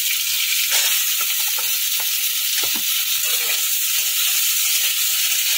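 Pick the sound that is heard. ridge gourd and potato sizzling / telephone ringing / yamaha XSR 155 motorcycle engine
ridge gourd and potato sizzling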